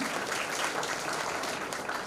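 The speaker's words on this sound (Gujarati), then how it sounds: "તો એકવાર તાળીઓથી વધાવી લઈએ એમને." Sustained applause from a gathering at a police camp farewell ceremony for a retiring officer, steady and moderately loud, continuous clapping with no break.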